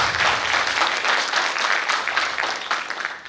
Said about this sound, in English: shall we give a KDU Toastmasters Club as well as outgoing executive committee a good round of applause?